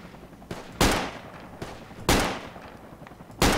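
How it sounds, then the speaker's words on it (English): Gunfire in a multiplayer shooter video game, several sharp loud shots in an irregular pattern, each with a short decaying tail, close and without talk. "I'm gonna shoot them"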